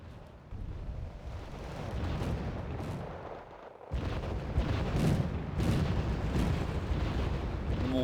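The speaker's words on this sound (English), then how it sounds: "The mortars are firing." Mortars firing in the strategy video game Wargame Red Dragon: repeated heavy booms and bursts over a rumbling battlefield din, with a sharp jump in intensity partway through.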